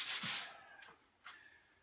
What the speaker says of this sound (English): When you're hand sanding, you can feel whether or not it's smooth